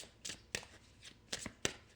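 Tarot cards shuffled and drawn by hand, a quiet close series of crisp riffling flicks and card snaps in several short bursts.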